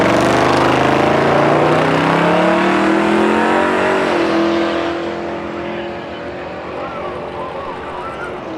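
A race car, a Camaro, accelerates hard at a drag race: a loud, rising engine roar close by that fades away as the car pulls off, leaving a quieter rumble behind.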